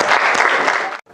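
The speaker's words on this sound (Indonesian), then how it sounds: "Berikan tepuk tangan." A school class applauds during a civics lesson, a burst of dense, bright clapping from many students lasting about a second before cutting off abruptly.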